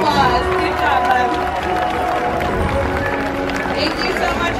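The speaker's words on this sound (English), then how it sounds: "Let's give Xavier a big round of applause" A crowd at a SeaWorld San Diego killer whale show applauds and cheers for a young volunteer, a dense wash of clapping and voices held steady and loud throughout.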